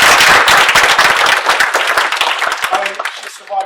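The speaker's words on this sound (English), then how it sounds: "one is worth a round of applause." An audience gives a round of applause at a lock-pattern conference talk, loud and dense at first, then thinning into scattered individual claps as it tapers off.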